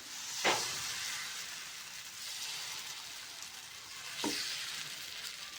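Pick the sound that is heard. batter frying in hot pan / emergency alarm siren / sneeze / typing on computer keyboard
batter frying in hot pan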